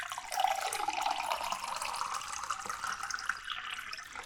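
Water is poured from a tap into a drinking cup or bottle, a steady close hiss-like stream whose pitch rises gradually as the vessel fills, with no talk.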